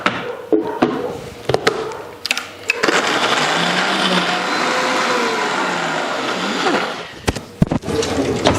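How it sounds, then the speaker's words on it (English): A few clunks and taps give way to a loud blender whirring steadily for several seconds as it blends almonds and water into almond milk, then it stops and more handling knocks follow. "let's blend this up."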